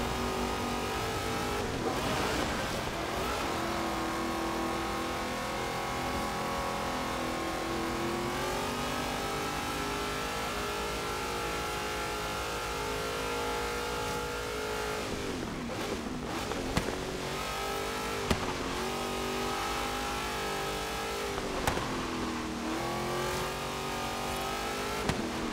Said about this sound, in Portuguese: Meu carro não tem potência pra pegar ele